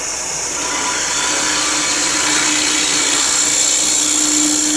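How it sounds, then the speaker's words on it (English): A rod scraper makes a skew cut on wood spinning on a lathe, giving a steady, loud whirring and hissing shear that holds unbroken and close throughout. "we use the rod scraper and we can come around that shape"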